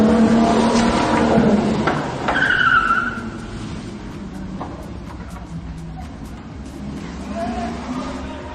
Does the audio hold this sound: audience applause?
no